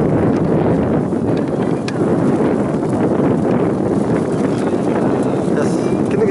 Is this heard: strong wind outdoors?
yes